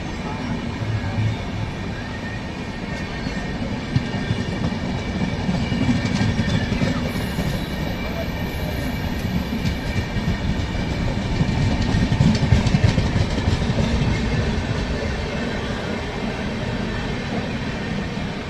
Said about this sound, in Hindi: हम सफ़र एक्सप्रेस यहाँ पर से निकल रही है